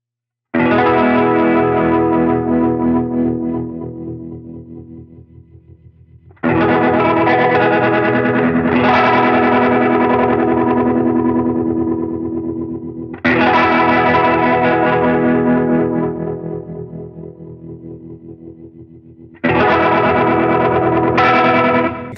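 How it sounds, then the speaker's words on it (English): Strummed electric guitar chords pulse through a TC Electronic Vibraclone Leslie pedal set to its tremolo voice, four loud, close chords each throbbing in volume as they fade. "And on the tremolo voice."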